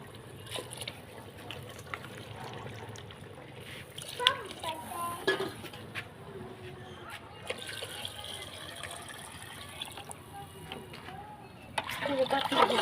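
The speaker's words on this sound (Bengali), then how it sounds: "পুরো পাতিলে বেশি করে পানি দিলাম" Water splashes into a pot of khichuri made with chicken skin, a rural cooking scene, with pans clinking, under steady talk and a voice.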